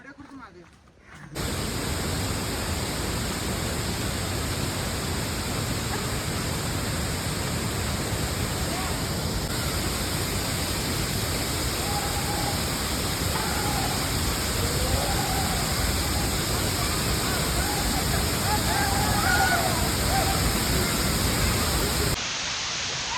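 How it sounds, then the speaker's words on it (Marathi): A powerful waterfall roars as a dense, continuous rush of falling water that stays loud and unbroken for over twenty seconds, with faint voices buried beneath it. "धबधबा बघा कसला डेंजर आहे"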